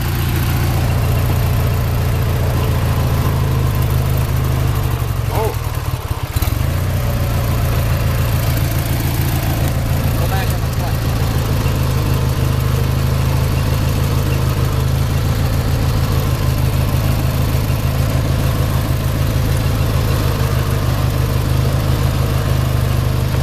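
An engine with a stuck clutch idler idles loudly and steadily nearby, holding a constant low drone with a brief disturbance early on.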